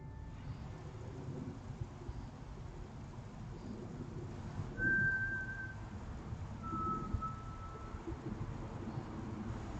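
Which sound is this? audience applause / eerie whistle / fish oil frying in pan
eerie whistle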